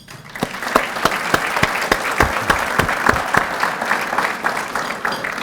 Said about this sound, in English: I wanted to give her a round of applause and thanks.